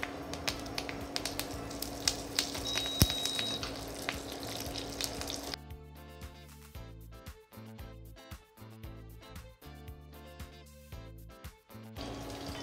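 Curry leaves dropped into hot tempering oil already crackling with mustard seeds, cumin and dried red chillies for coconut chutney: a busy, crackling sizzle for about five seconds, after which music takes over.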